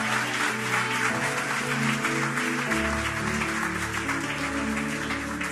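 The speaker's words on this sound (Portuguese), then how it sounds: "Você pode aplaudir o Senhor por isso?" A church congregation in Lisbon applauds steadily during a Sunday service, a dense wash of clapping held over sustained low keyboard chords, with no pauses.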